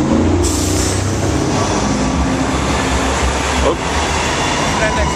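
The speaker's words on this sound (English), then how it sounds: "We're waiting for the traffic to go by." Roadside traffic passes in a loud, continuous, heavy rumble and roar that stays steady throughout.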